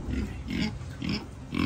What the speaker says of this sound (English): Sorry, pigs.